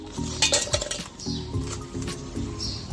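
Ice cubes dropping into a glass or vessel while making a gandhoraj lemon lassi with yogurt and sugar, giving several close, bright clinks and knocks in quick irregular bursts.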